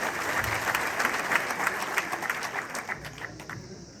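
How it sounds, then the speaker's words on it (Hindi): A crowd at a welcome rally for former chief minister Ghulam Nabi Azad breaks into enthusiastic applause that holds steady for several seconds, then thins out and tapers off. "जोरदार तालियां।"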